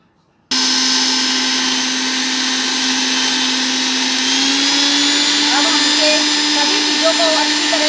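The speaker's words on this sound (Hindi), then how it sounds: "ब्लैंड कर लेंगे हम लोग" A blender grinding chutney for paneer pakora stuffing switches on abruptly after a short silence, then runs as a loud, steady, high-pitched motor whine that holds unchanged, up close, to the end.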